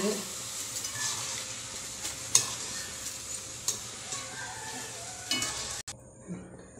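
Steady bubbling sizzle of breadcrumb-coated chicken deep frying in hot oil, with occasional clinks of a utensil against the pan before it cuts off.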